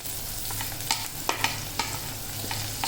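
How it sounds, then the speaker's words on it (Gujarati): Onion tempering sizzles in hot oil with mustard, cumin and fenugreek seeds, a constant frying hiss broken by a handful of distinct clicks and scrapes from stirring, close and fairly loud. "સૌપ્રથમ ડુંગળીનો વઘાર કરીશું"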